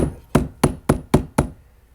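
Five sharp hammer blows strike old nails being straightened on a deck-steps repair job, evenly spaced about a quarter second apart, close and loud with short ringing decays and no talk.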